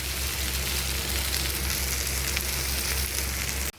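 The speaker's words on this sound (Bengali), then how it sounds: "দেখুন চাউমিনটা আমি এর মধ্যে দিয়ে দিয়েছি, আর এটাকে খুব হালকা করে আমি নেড়ে নিচ্ছি" Chow mein noodles for veg Hakka noodles are stirred gently in a frying pan, giving a steady, close, dense sizzle that stays even throughout and cuts off abruptly at the very end.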